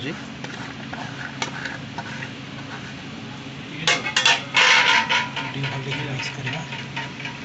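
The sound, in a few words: stirring and mixing chopped coconut in a pot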